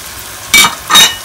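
Onions and meat fry in a pan as tomatoes go in for a biryani base, giving two short, loud bursts of sizzling a moment apart over a quiet background.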